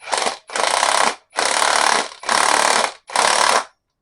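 An impact gun hammers on an axle nut during a vehicle axle swap, five loud, close bursts of rapid rattling blows, each under a second long, separated by brief pauses with no talking.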